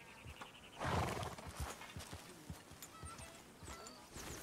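A large draft horse in the Red Dead Redemption video game, its hooves clip-clopping close by with a whinny in the middle, over a faint outdoor ambience.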